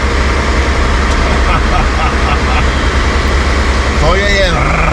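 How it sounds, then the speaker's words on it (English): A ship or ferry engine between Banjul, Gambia and Senegal runs close by with a loud, steady drone throughout, and a voice talks over it with a brief higher tone near the end. "So if you can't hear me, I'm next to the engine."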